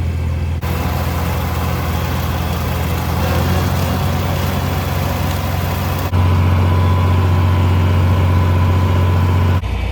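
A farm tractor engine runs steadily in first gear, a loud, close, low diesel drone that changes to a deeper, heavier note partway through, with no talk.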